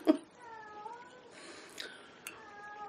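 A house cat meows several times indoors: a sharp cry at the start, then drawn-out, wavering mews that rise and fall, quiet and near, with no other sound.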